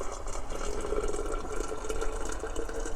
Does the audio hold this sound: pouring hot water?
yes